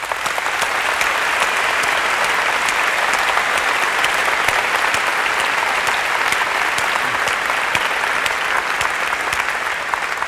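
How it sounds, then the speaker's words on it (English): A large keynote audience at Macworld New York 2002 breaks into sustained, even applause, a dense wash of clapping that holds steady at full strength throughout with no voices over it. "I'd like to give them a round of applause"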